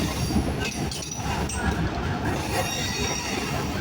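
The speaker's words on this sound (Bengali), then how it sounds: "ট্রেন নম্বর একশো দুই রাজবাড়ি মেল কিন্তু পাতুরিয়া জংশন রেল স্টেশনের দুই নম্বর লুপ লাইনে প্রবেশ করলো" Rajbari Mail, train number 102, entering the number two loop line at Pachuria Junction station; close, loud rumbling wheels with high metallic squealing from the rails, continuous through the short stretch.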